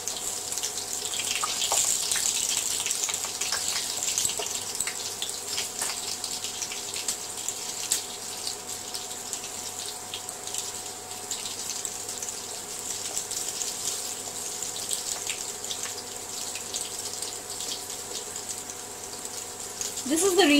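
Coriander fritters sizzle steadily in a large pan of hot oil, a continuous bright hiss that holds level throughout with no talking.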